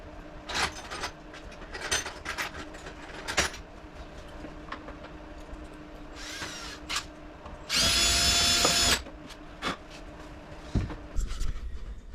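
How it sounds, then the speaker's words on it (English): A power drill cleans out mounting holes for a fog light retrofit on an MK5 Jetta, whirring in several short bursts with one longer, louder run near the middle amid workshop clatter. "clean it out a little bit with the drill"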